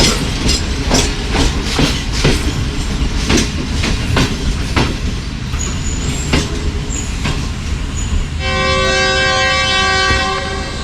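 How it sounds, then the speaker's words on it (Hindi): A passenger train rolls into Lala Musa junction, its wheels clattering in rapid repeated clicks over rail joints, loud and close, before a long sustained horn blast sounds near the end. "लाला मूसा जंक्शन पे अप्रोच कर रहे हैं हम"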